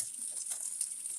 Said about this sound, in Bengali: মাছগুলো প্রায় ভাজার শেষের পথে